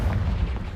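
Confringo spell explosion in the video game Hogwarts Legacy, a short, deep, booming blast that rumbles loudly up close and fades within a second.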